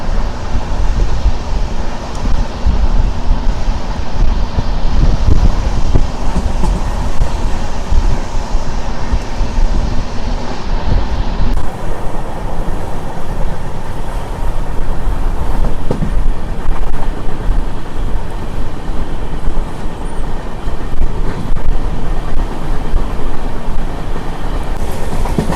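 Steady rumble of the Sevan Hills SF Express from Tirupati to Secunderabad, heard from on board in light rain, a continuous close roar of wheels and carriage with wind noise and no voices.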